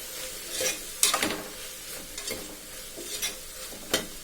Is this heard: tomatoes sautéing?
yes